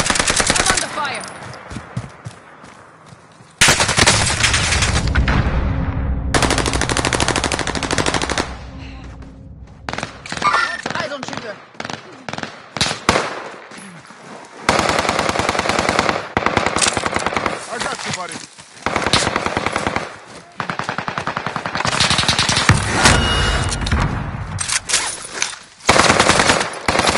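Gunfire fills a first-person shooter video game, with dense automatic bursts and rapid single shots rattling almost nonstop, briefly broken by short pauses, under occasional game voice lines.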